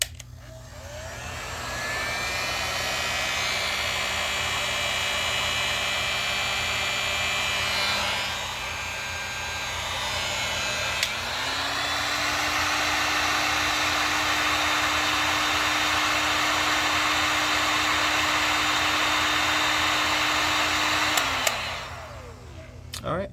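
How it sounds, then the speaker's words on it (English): A heat gun runs on a portable power station that is recharging from an AlphaESS SP200 200W solar panel, giving a steady close whooshing blower roar with a pitch shift partway through, then cutting off near the end. "it's going to turn on the heat gun"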